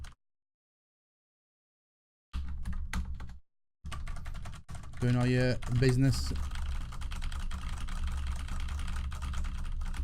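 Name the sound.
typing on Roccat Ryos MK FX keyboard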